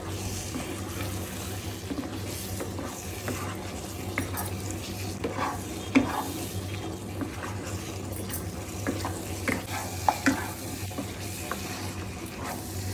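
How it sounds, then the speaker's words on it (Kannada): Mutton ghee roast masala frying in a pan, a continuous low sizzle with irregular stirring scrapes and occasional knocks of a utensil against the pan, close up and without speech. "ಒಂದು 2 ನಿಮಿಷ ಈ ಥರ ಚೆನ್ನಾಗಿ ಫ್ರೈ ಮಾಡ್ಕೊಂಡಿದ್ದಾದಮೇಲೆ ನಮ್ಮ ಮಟನ್ ಗೀ ರೋಸ್ಟ್ ರೆಡಿ ಆಗುತ್ತೆ"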